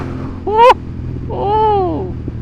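A Honda CB750 Hornet motorcycle on a cold start, idling high, gives a quick sharp throttle blip and then a longer swelling rev that rises and falls over a loud, steady idle.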